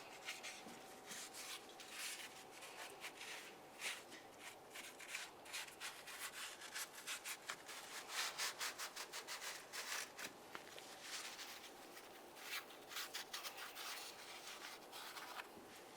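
A rag wipes down the transmission of a 1998-2002 Lincoln Navigator where the oil pan sits, giving quiet, close rubbing and scrubbing strokes in an uneven rhythm that grows busier midway, with no talking.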